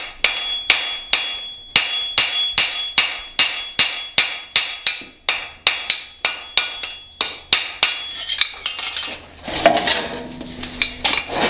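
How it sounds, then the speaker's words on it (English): Rapid, steady blows from a large hammer ringing on steel, each strike sharp and loud with a bright clang, slowing into rougher, scraping impacts near the end. "You use this monstrous hammer that I'm using for it."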